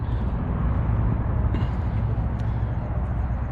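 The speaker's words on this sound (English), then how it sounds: "you're going to have some traffic noise" Steady roadway traffic noise from a nearby freeway at a Cracker Barrel parking lot with RV spots, a continuous loud low rumble with brief passing whooshes and no break.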